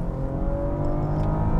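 A 410-horsepower Maserati Ghibli sedan in sport mode, its engine a steady, deep, continuous roar heard from inside the car while cornering, loud and even throughout.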